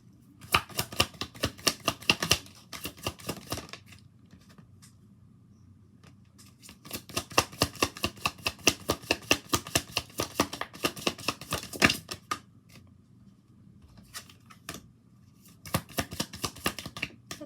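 Tarot cards shuffled in rapid riffling bursts, with dense clicking runs near the start, a long stretch in the middle and a last burst at the end, broken by short quiet pauses; close and fairly loud, with no voices.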